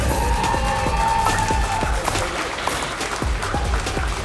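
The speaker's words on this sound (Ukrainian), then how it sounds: "Давайте нагородимо Владислава гучними оваціями, друзі." A crowd at a bare-knuckle fighting event applauds and cheers steadily in a large room, with sharp thuds and scattered shouts breaking through the continuous roar.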